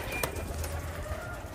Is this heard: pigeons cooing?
yes